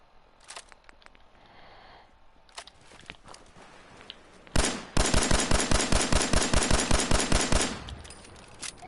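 Gunfire from a modded gun in Fallout 4: a few light clicks and taps, then a loud, close, rapid automatic burst of evenly spaced shots lasting about three seconds before cutting off.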